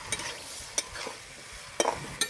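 Chunks of jackfruit and potatoes tossed with spices in a pan, giving soft scraping stirs and a few sharp utensil clinks against the metal over a faint background sizzle.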